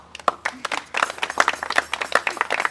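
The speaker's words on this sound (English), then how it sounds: "So give them a round of applause" Wedding guests at Kavi and Devika's ceremony break into applause, starting with a few scattered claps and quickly thickening into a denser, close patter of many hands.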